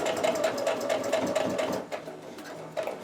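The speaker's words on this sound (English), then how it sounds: "I want to sew a nice even 1/4 inch stitch" A sewing machine stitches a quarter-inch seam with a fast, steady mechanical chatter of regular needle strokes, close and clear, slowing briefly near the end.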